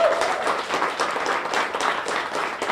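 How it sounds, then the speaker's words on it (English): A roomful of people applauds at a festival kickoff ceremony unveiling a new artwork in a park, the clapping dense and sustained for a few seconds, close and fairly loud. "Give Nancy a big round of applause."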